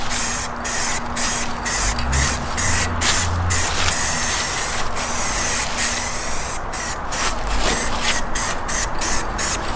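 Spray paint hisses from a can in short, light bursts, close by, as a Toyota MR2 is coated outdoors in a breeze, with a steady hiss broken by quick repeated pauses.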